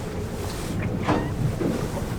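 Strong gusts of wind buffet a small fishing boat at sea, a broad rushing roar with surging swells and microphone buffeting, close and loud with no talk.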